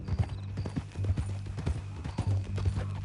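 Horse hooves clip-clop steadily in the western video game Red Dead Redemption 2, a close, even walking rhythm of repeated hoof falls under low background sound.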